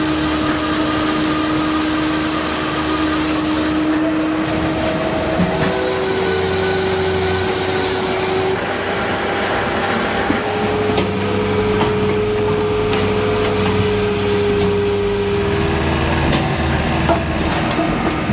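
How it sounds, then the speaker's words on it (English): Heavy firewood processor handling logs up to 65 cm across, a steady loud hydraulic engine drone with shifting pitch and clattering wood knocks as logs are sawn and split, continuous throughout. "This powerhouse handles logs up to 65 centimeters in diameter, effortlessly sawing, splitting, and loading"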